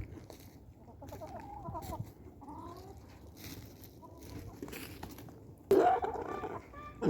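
Backyard chickens clucking softly as they hunt for hidden wheat, a few short calls rising over low ambient noise, with a louder burst near the end.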